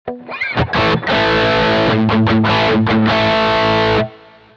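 Loud, saturated electric guitar chords through a White OD overdrive pedal at high gain, with a thick, buzzing distortion, played in a few bursts before ringing out and cutting off.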